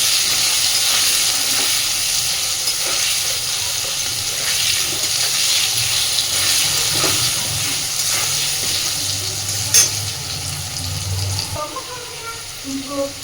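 Potatoes frying in oil with turmeric in a pan, a constant loud sizzle up close, with a low hum and a few clinks and scrapes toward the end.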